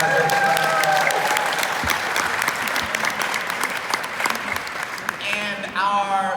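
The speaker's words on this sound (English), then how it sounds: "Give him a round of applause." Loud, sustained audience applause during a mayor's keynote at a conference on Black cooperatives, dense clapping throughout with some crowd noise and a few brief tonal sounds near the end.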